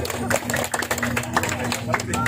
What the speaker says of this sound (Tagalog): Palakpak mo na, palakpak!